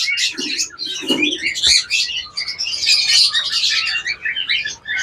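Caged birds at a bird shop chirp and twitter busily and close by, a dense overlapping chorus of high tweets with a few lower coos mixed in.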